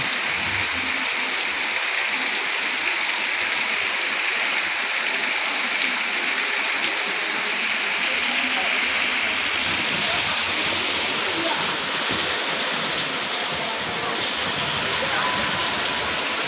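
Heavy rain pouring down in Parshuram, a steady, dense roar of falling water that stays loud and unbroken from start to finish, with no voices.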